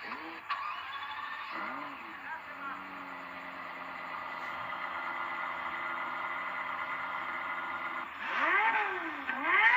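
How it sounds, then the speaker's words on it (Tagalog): A Yamaha-developed V10 car engine hums steadily, then revs up sharply near the end, its pitch rising and falling in loud swells; a smooth exhaust note dominates throughout. "yung napakagandang tunog ng exhaust system nito"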